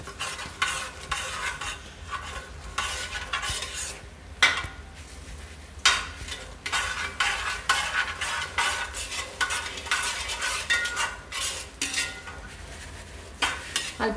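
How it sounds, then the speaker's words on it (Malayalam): Rice flour is stirred little by little into melted jaggery syrup in a pan. A spoon scrapes and clatters against the metal in steady, busy strokes over a soft sizzle, close and loud, with no voices. "ഈ ടൈമിൽ നമ്മുടെ മാവ് ഇതിലേക്ക് കുറേശ്ശെ ഇട്ട് ഇളക്കിയെടുക്കണം നന്നായിട്ട്"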